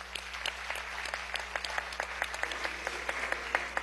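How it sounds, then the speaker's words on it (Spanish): An audience at a session of Venezuela's National Assembly applauds the invited guests, producing sustained, even applause in a large chamber over a steady low hum. "Pido un aplauso para todos nuestros invitados especiales."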